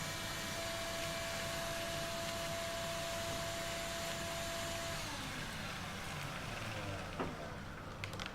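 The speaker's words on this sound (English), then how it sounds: "here you can see the dust being separated by the Dust Deputy" Shop vac running with a Dust Deputy cyclone separator, a loud continuous whine and rush that holds steady, then shifts in tone partway through as debris is drawn in.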